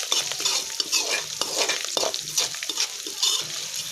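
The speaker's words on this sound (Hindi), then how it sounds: "अदरक को हमने कीसा था दोस्तों, तो हम वो डालेंगे। उसको थोड़ा भून लेंगे" Grated ginger and green chillies frying in a pan for upma, a loud, close sizzle with busy scraping and clinks of a spoon stirring throughout.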